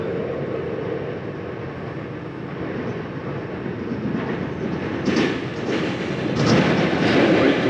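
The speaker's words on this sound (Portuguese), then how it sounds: "Agora o trem está indo" A CPTM Line 11 Coral commuter train runs along the track, heard from inside as a steady rumbling roar that builds a little louder, with rattling bursts and clanks toward the end.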